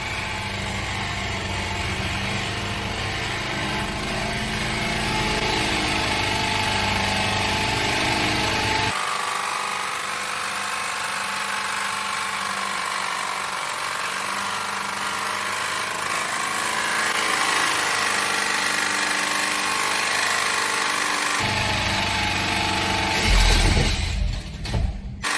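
A Volkswagen 2.0L EA888 engine runs hard while being blown up, with a loud harsh mechanical clatter and knocking that drops in tone midway, surges again, and ends in a sudden burst.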